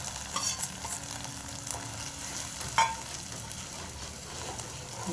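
Vegetables sizzle and get stirred in a pan after a cornflour and flour mixture is added for cabbage Manchurian, a soft steady frying hiss with occasional scraping of the spatula.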